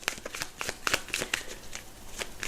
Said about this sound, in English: Let's tune into these very intense energies while I shuffle the cards.